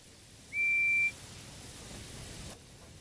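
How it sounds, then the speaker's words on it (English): A single short, steady, high-pitched guard's whistle blast from a Thomas and Friends railway video game, sounding alone for about half a second over a quiet background hiss. "the guard's whistle blew"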